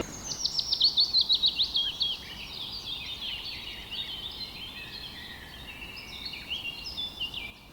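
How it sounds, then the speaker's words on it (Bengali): Rapid high bird chirps and twittering trills, quick bursts at first then a steady chatter of several birds, fairly faint in quiet open surroundings. "পাখির কিচিরমিচির আওয়াজে মনটা অনেকটা হালকা"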